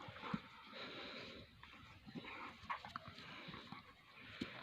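Two shepherd dog puppies play-fighting, with scuffling, snorts, pants and small whimpers mixed in a busy, fairly quiet jumble of close movement noise.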